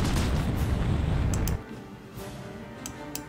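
Artillery and explosions pound a base in Company of Heroes: Tales of Valor, a dense low rumbling barrage that cuts off abruptly, leaving faint distant bangs and sharp impacts scattered afterward.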